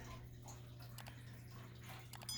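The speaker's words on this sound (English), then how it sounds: "Nice sound of the hot water fountain" A hot water fountain splashes steadily in an indoor room, producing a faint continuous wash of falling water with a few soft drips and ticks over a low hum.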